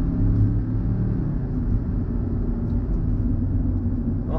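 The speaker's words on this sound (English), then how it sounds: "So on three, I'll go foot flat to the floor" A new Land Rover Defender accelerates at full throttle, its engine a deep, continuous rumble heard from inside the cabin, steady and loud without clear rises in pitch.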